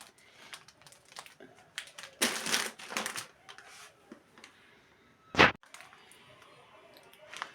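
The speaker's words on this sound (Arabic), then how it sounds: "وجبت كيس مكرونه اسباجيتي" A plastic bag of spaghetti pasta crinkles and rustles in irregular bursts close by, with one sharp crackle standing out, while someone talks quietly in between.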